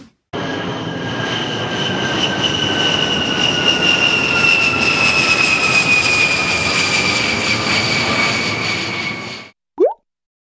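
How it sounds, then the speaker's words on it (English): A jet aircraft engine roars steadily for about nine seconds, loud and close, with a high whine that slowly falls in pitch. It cuts off abruptly, followed by a brief soft pop. "J for jet."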